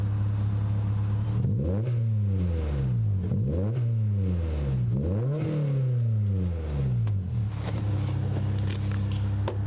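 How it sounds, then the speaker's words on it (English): A 2001 Honda S2000 engine revs four times in a row, each sharp rise in pitch falling back to a throaty idle, loud and close. "Give it a couple revs."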